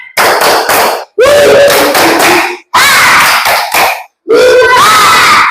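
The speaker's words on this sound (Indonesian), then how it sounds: "Yuk, semuanya tepuk semangat." Primary school children in an Indonesian second-grade classroom perform a rhythmic clapping chant, loud and close, in four bursts of sharp claps mixed with shouted chanting.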